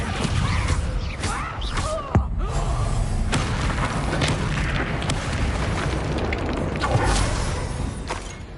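The Confringo explosion spell in the video game Hogwarts Legacy, with loud, dense booming blasts and bursts running continuously over a rumbling background.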